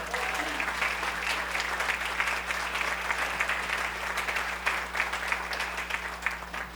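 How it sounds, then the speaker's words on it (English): A Rotary club meeting audience applauds GE Aerospace CEO Larry Culp, steady dense clapping sustained across the whole stretch over a low constant hum. "Let's have another round of applause for Mr. Larry Culp"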